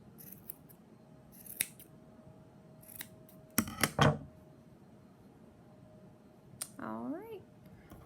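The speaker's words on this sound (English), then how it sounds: "Once you decide, just cut it to the desired length." Scissors snipping yarn while making a small pom-pom for a yarn hat ornament: a few separate close, crisp cuts, with one louder double snip near the middle, set against a quiet room.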